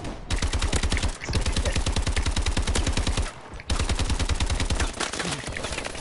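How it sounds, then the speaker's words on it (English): Sustained machine gun fire from Call of Duty: Advanced Warfare rattles in fast, even bursts of loud, close shots, with two short breaks, and no talk over it. "Oh, he got a machine gun."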